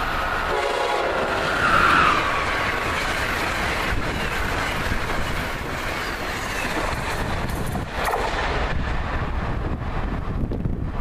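An Amtrak ACS-64 electric locomotive passes with a K5LA horn sounding briefly amid heavy rumbling train noise and wind buffeting on the microphone, loud and fairly close.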